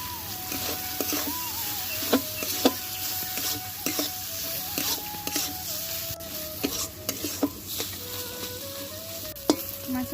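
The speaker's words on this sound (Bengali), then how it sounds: "মাছের পুরটাকে সুন্দর করে ভেজে নিয়েছি।" Bhola fish filling with turmeric and salt frying in a pan, a steady sizzle with intermittent scraping and stirring clinks of a spatula throughout.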